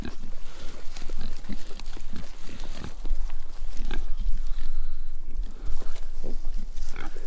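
Pigs on a farm during winter prep grunt and snort in short, uneven bursts close by, with shuffling and low rumbling noise filling the gaps.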